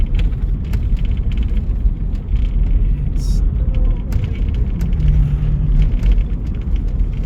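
A car rolls along a snowy road near Three Mile Island, with a loud, steady interior engine and road rumble throughout, a few faint tones and clicks above it.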